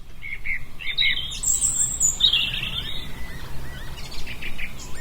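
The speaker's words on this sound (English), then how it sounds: "Northumberland's alive to birdsong at the moment" Birds sing in spring gardens in Northumberland, with repeated high chirps and twittering phrases, one bright call near and others farther off, over a low outdoor background rumble.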